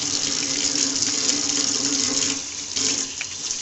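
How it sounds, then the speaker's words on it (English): Hot water heated by a rocket stove pours from a tap, a loud, steady hiss and splatter of running water into a sink that continues unbroken throughout, with no voices. "There's hot water coming out already."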